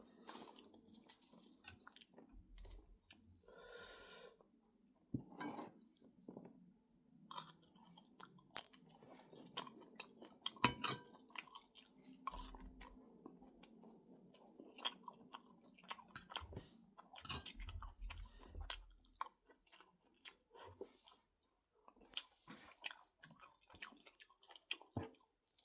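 A person eats rice with fermented pork naem, chewing close to the microphone with wet, squishy smacks and occasional crunchy bites in an irregular rhythm, broken by quiet pauses and light clicks.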